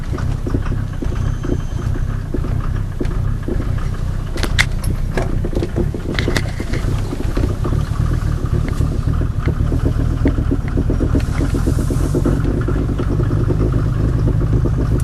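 A 1990 Mercedes 300D diesel backing up, its engine holding a steady low clattering drone with a few brief knocks and rattles, loud and close throughout with no voices.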